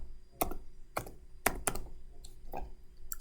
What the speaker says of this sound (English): type in the user's number